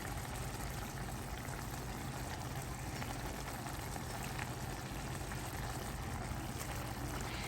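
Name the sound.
cooked pasta draining from the pot into the sauce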